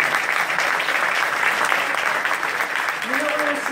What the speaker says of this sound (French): c'est plus les parents qui ont applaudi, et après les ingénieurs ont suivi